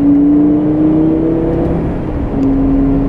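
A Lamborghini Gallardo with the E-gear transmission driving in regular shift mode, its engine droning loudly up to a brief dip as the gear changes, then resuming a steady pitch, close and with no talk.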